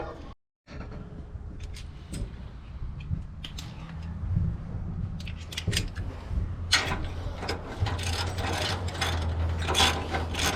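A ratchet clicks in quick bursts while a bolt is removed from a bumper bracket on a vehicle frame, with a pry bar levering the bracket, close mechanical clatter and scraping between the strokes.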